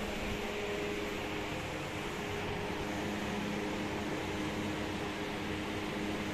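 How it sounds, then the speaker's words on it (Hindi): An air cooler runs loudly in a room, a constant dense broadband whoosh of fan and airflow with a faint steady hum, unchanging throughout and with no talking. "कूलर को बंद करते हैं, बहुत ही शोर कर रहा है,"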